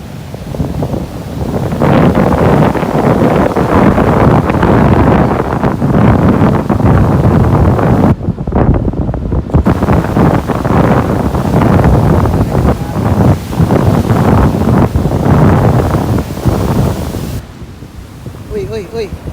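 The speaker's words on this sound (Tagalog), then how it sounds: "Ganda ng simoy na hangin." Strong sea breeze at Old Bar Beach in New South Wales, a loud, constant roar of wind buffeting the microphone with ocean surf underneath, briefly easing twice before returning.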